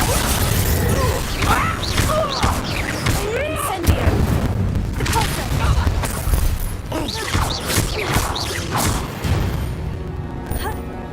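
The Incendio fire spell cast in the Hogwarts Legacy video game: repeated bursts, whooshes and booms in a dense, continuous stream of combat effects, with voices mixed in.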